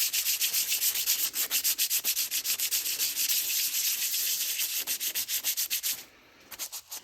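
Scuffing an arcade joystick part by hand before painting, a close, steady scratchy rubbing in fast repeated strokes, pausing briefly near the end before a few last rubs.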